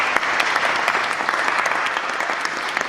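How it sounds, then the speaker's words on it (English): Audience applause for panel debate speakers: brisk, sustained clapping from a room of people, close and fairly loud, holding an even level throughout. "A round of applause for our speakers, please."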